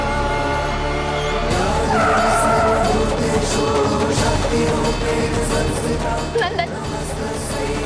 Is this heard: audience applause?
no